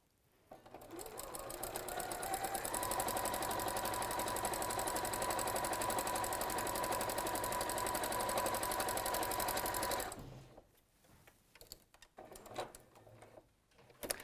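A sewing machine stitches a quilt in one steady, fast, close run of even mechanical clatter for about nine seconds, then stops, leaving faint handling noises.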